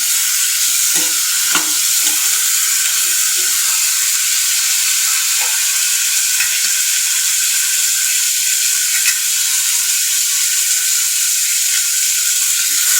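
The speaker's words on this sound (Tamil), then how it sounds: "லைட்டாக அந்த பச்சை வாசம் போகிற அளவுக்கு வதங்கினாலே போதும்" Onions sauté in a pan for a Tamil-style fish curry, a loud, even, continuous sizzle held close for the whole stretch, with scattered soft scrapes and taps from stirring and no talking.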